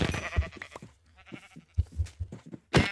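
Minecraft sheep give short bleats mixed with thumps and game noise, a few calls scattered across the moment, moderately close.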